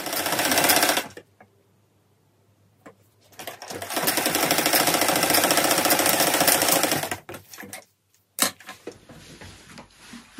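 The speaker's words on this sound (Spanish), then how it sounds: "Aquí vamos a estar cosiendo lo que es la primera pieza del pantalón." A sewing machine stitches together trouser pieces cut from a sweater, running in a steady fast whir for a second, pausing, then a long continuous burst followed by short stop-start bursts, close and loud with no talking.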